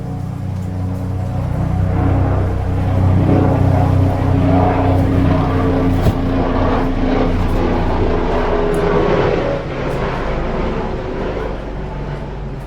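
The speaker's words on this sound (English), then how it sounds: "There's a helicopter flying by." A helicopter passes overhead, a loud, steady low rumble with a rhythmic rotor thrum that builds and then fades slightly, with nothing else over it.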